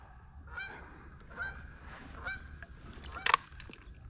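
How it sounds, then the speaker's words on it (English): A goose honks repeatedly at a duck-hunting spot, a series of nasal calls spaced about a second apart, moderately distant and fairly faint, ending in a sharper, closer burst. "Dave, there's a goose coming at you on the deck. Do you hear that?"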